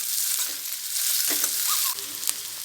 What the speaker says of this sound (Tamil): நறுக்கி வச்ச வெங்காயத்தை போட்டு இதை நல்லா வதக்கி வச்சுக்கலாம்